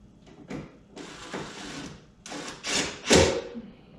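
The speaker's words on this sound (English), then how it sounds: "we just have to install our 7mm screws" Screws being driven in while installing an emblem on a 2019 Mustang GT PP1: a few short bursts of whirring, ratcheting tool noise with mechanical clicks, close and fairly loud, separated by brief pauses, no speech.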